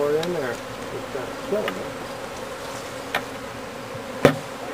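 Honey bees droning steadily in a hive being sugar dusted for mite control, a dense, close buzz throughout with a few sharp knocks and taps against the hive boxes.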